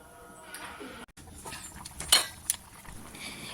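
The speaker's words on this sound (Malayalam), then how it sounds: "നമ്മൾ സ്പൂൺ കൊണ്ടൊന്ന് ചെറുതായിട്ടൊന്ന് ഇളക്കി കൊടുക്കുന്നത്" A metal spoon stirs sardine curry simmering in a pot on a gas stove, giving a couple of short, sharp clinks against the pot over a low, murky kitchen background.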